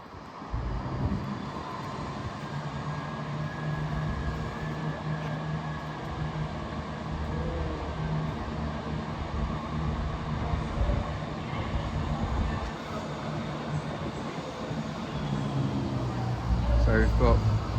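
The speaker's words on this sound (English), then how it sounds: "Ready to depart now will be the 10:47 East Midlands Railway service from Crewe to Lincoln Central." An East Midlands Railway Class 170 diesel unit on the Crewe to Lincoln service departs Derby station with a steady engine drone that swells near the end, heard under a station announcement.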